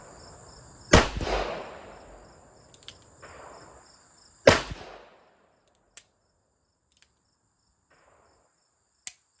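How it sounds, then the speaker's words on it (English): Two loud, sharp gunshots from 130 grain .38 Special rounds crack close by, spaced a few seconds apart, each followed by a short echoing decay, then faint clicks and handling noises at a range. "Now these are the 130 grain 38 Special, 3 shots."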